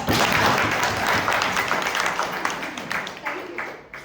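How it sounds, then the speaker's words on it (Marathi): Audience applause at a Marathi talk on the mind and stress, loud at the start and gradually thinning and fading over a few seconds. "टाळ्या वाजवू शकता"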